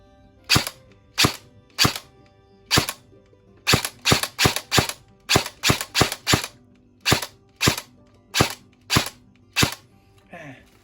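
E&C 308S M4 RIS Gen2 gel blaster toy rifle fired semi-automatic, about twenty sharp, loud single shots spaced irregularly, some in quick clusters, close to the listener.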